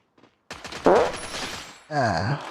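Gunfire in a battle royale video game: several close, sharp bursts of shots crack out in quick succession, with a short faint sound before them and a break between the bursts.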